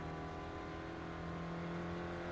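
Mazda MX-5 racing car engine in the iRacing sim at Brands Hatch, a steady buzzing drone holding high revs under power, loud and continuous with harmonic whine.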